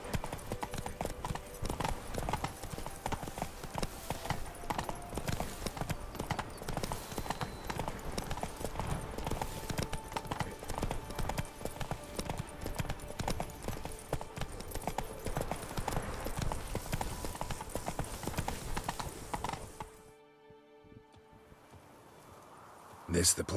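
Roach the horse gallops in The Witcher 3 with a steady, close drumming of hooves and a brief whinny, then the hoofbeats cut off near the end.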